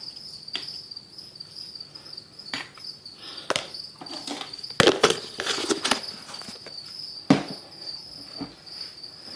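Crickets in a breeding container chirp in a continuous high, steady trill, with a few scattered knocks and clatters nearby breaking through.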